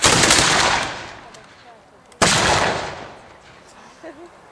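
Historical black powder muskets at a castle living-history drill fire a loud booming volley, followed about two seconds later by a second sharp blast from a late hang fire, each crack trailing into a long echoing decay.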